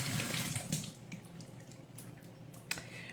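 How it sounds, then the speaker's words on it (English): Kitchen tap water running over hands while rinsing off sticky honey, a soft steady splashing stream with faint drips and clatters, quiet and close. "Let me just rinse my hands here"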